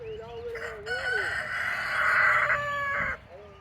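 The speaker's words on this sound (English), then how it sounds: "That rooster is a big old boy." A big rooster on a farm of rescued animals crows once, loud and close, in a long rising-then-sustained call of about three seconds, with faint farmyard background around it.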